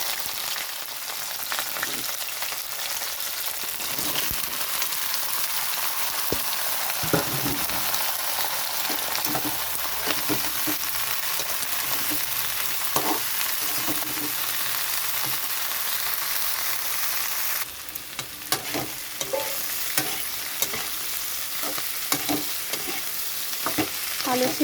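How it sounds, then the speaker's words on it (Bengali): Potato and flat bean pieces fry in hot mustard oil with nigella seeds and green chilli, a constant close sizzle broken by repeated scraping stirs of a spatula in the pan. "আলু সিমটা একটু ভাজা হয়েছে"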